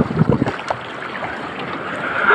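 Strong ocean waves wash and slosh around a small fishing boat out on rough water, with steady wind noise filling the background and a few louder splashes near the start.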